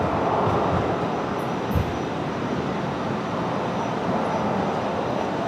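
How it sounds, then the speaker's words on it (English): An Airbus A330neo airliner departs Brisbane Airport for New Caledonia, a broad steady roar of jet engines, loud and continuous without a break, with no voices heard. "There goes the 330 Neo."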